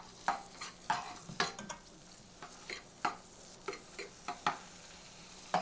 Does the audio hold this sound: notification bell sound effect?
no